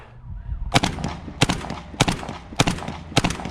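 A Black Aces FD12 bullpup shotgun fires rapidly outdoors, giving six sharp, loud blasts spaced roughly half a second apart, each followed by a short echoing tail.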